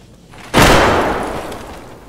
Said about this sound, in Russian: Попробую кинуть гранату в курятник.